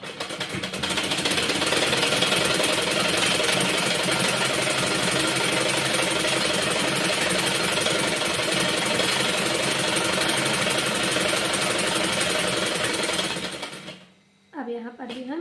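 Sewing machine stitching a shirt with a straight seam, a fast steady mechanical whirring that runs continuously up close before stopping, followed by a brief voice.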